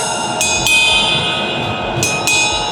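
Several sharp metallic strikes on a very thick, dark ride cymbal, each followed by a long shimmering wash that rings on between hits.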